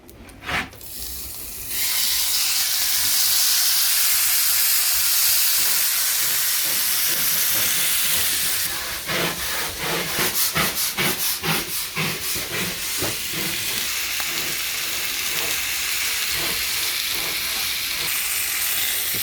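Fish pieces sizzling in a frying pan aboard a New Zealand houseboat, a loud, steady hiss that jumps in at once, then breaks into crackling bursts and spatters as the food is moved around, carrying on to the end.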